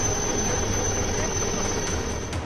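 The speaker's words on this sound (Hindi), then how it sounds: "उफनती कावेरी नदी, उसके ऊपर उड़ता हेलीकॉप्टर" A helicopter hovers over a swollen, flooded river during a flood rescue in Navsari, Gujarat, giving a steady, unbroken rotor and engine roar at moderate distance with no voices.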